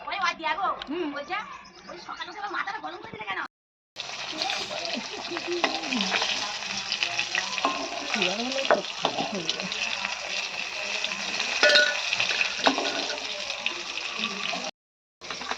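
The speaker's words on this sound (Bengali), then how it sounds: "আর এখানে বাটা মাছ ভাজা হচ্ছে।" Bata fish frying in hot oil gives a loud, steady sizzle with crackle, broken by two short silent gaps, while voices talk in the background.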